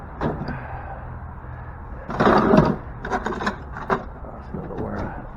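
Someone rummages through workshop drawers hunting for a level, with wooden rubbing, sliding and scraping sounds in short bursts, one louder clatter in the middle, close by and with no talking.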